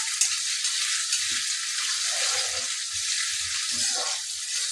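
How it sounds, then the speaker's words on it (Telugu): Potatoes (aloo) frying in a pan for biryani, a steady, loud, close sizzle that holds throughout, with faint voices briefly audible underneath. "కొంచెం ఇది ఫ్రై అవుతుంది కదా"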